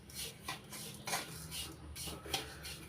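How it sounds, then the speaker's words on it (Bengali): A spoon scrapes and stirs semolina with sugar in a pan for ripe mango halwa, giving soft repeated scraping strokes with light metallic clinks, close and moderately quiet, with no talking. "চিনি দিয়ে একটু নাড়াচাড়া করে নিয়েছি।"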